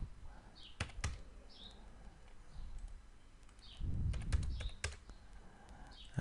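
Computer keyboard typing in an office setting, heard as scattered sharp key clicks in short bursts with a few louder taps, close and fairly quiet over a low room hum, with no talking.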